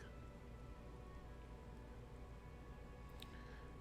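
Steady rainfall from the game Disco Elysium, a soft continuous hiss of falling drops, faint and even with no other sounds.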